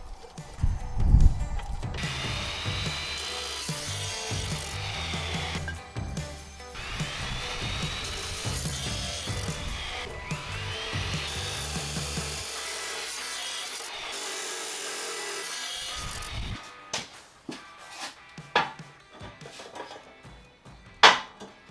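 Metal pieces cut for an offset smoker build: a continuous harsh grinding, cutting roar lasting about twelve seconds, then a pause and scattered clanks and scrapes of handled metal.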